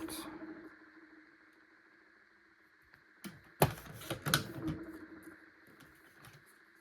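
Paper being cut for a scrapbooking layout: a few close, crisp snipping and slicing sounds clustered in the middle, with faint background hum before and quieter handling noises after.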